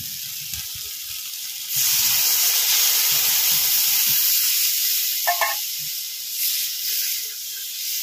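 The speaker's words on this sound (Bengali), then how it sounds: "এবার জল দিয়ে দেবো।" Water is poured into a pan of frying egg curry with potatoes and sets off a sudden loud, sustained hissing sizzle that continues to the end, with no talking.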